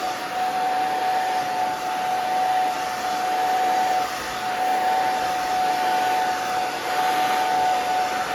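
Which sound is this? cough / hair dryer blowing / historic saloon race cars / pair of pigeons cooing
hair dryer blowing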